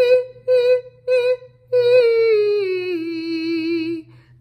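Solo sung vocal exercise on a sustained pitch, pulsed into three short separate notes with breath stops and clean, balanced onsets, then one long held tone that slowly glides downward and fades, close and clear.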